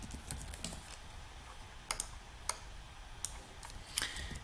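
Typing on a computer keyboard, a run of light close key clicks with a few sharper taps over a soft background hiss.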